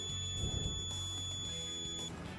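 A touch-screen feed scale on a feed mixer sounds its target-weight alarm, a steady electronic beeping tone held over a low rumble of machinery, with no voices.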